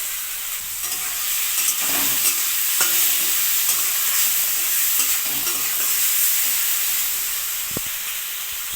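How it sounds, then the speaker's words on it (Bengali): Food fries in a pan with salt and turmeric, giving a continuous close sizzle broken by intermittent scraping stirs, with no one talking. "এটা আমি একটু নেড়ে চেড়ে নিয়েছি"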